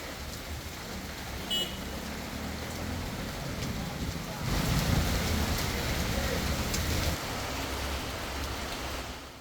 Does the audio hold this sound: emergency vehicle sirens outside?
no